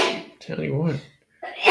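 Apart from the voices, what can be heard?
sneeze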